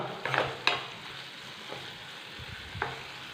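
Tamarind fries on low flame in a pan with a gentle steady sizzle, punctuated by a few sharp stirring scrapes and taps, close and without speech.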